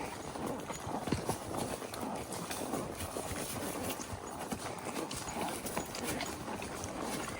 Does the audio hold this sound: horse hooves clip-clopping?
yes